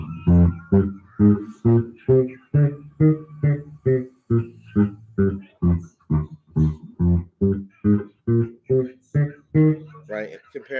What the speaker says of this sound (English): If I play that same major scale staccato, it would sound like this